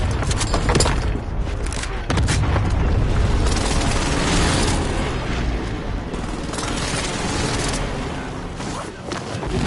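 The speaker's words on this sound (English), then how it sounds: "Enemy precision airstrike." Precision airstrike explosions in Call of Duty Warzone: a series of deep booms and crackling blasts rolling one after another at close range, loud and continuous for several seconds.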